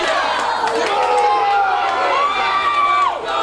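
A wrestling crowd roars steadily in an indoor ring event, a dense wash of cheering and shouting voices with a few whoops rising above it, loud and continuous throughout.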